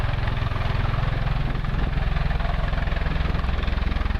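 Boeing V-22 Osprey tiltrotor of the United States Marine Corps at the AirVenture airshow in Oshkosh, a loud steady low rotor-and-engine drone with rhythmic pulsing beats, continuous and heard without talk.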